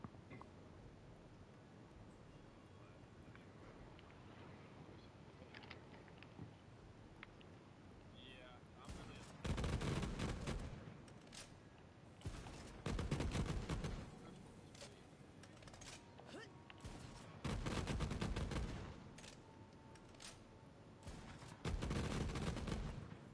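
A video game gun fires explosive rounds like fireworks in four loud, crackling bursts of rapid blasts, each a second or two long, separated by quieter gaps.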